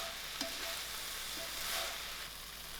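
Bread being stirred into hot oil in a frying pan gives a faint continuous sizzle with a few soft scraping and tapping stirs.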